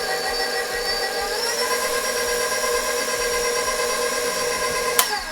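An electric mixer beating cheesecake batter with eggs on low speed gives a loud, steady motor whir with a faint hum. Its pitch shifts slightly partway through, and a single sharp click sounds near the end.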